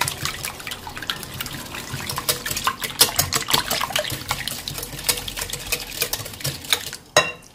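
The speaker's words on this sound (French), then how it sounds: "Je mélange." Food being stirred in a pot on the stove, with wet, sloshing scrapes and repeated spoon strokes against the pot, close and fairly steady, ending with a brief clatter.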